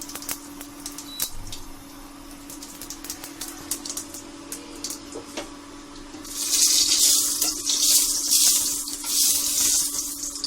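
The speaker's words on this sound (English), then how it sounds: "Now we are pouring whole cumin seeds into the pan." Whole cumin seeds dropped into hot white oil in a pan, first a few light taps and clicks, then a loud bright crackling sizzle bursting up and continuing through the second half.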